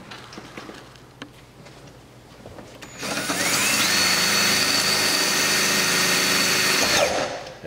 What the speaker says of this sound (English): I'm just gonna use a screw gun to put these in